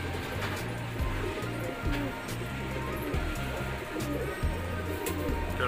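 Green-necked local pigeons coo in soft, low, rhythmic phrases nearby, repeating steadily while a voice talks in the background.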